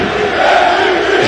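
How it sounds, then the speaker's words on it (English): A packed basketball arena crowd in Athens roars and chants for a Panathinaikos player, a loud, sustained mass of voices with a rising rhythmic swell. "The chants of MVP echo through the arena"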